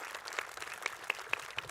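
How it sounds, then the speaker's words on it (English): Brief burst of audience applause greeting an introduced guest, scattered claps ringing out at moderate distance with a few sharper individual hand claps standing out. "the crowd knows you, Jack."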